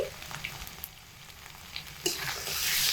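Ginger paste, cumin paste and turmeric powder sautéing in a pan give a steady, close sizzle with light stirring that swells louder and hissier about two-thirds through.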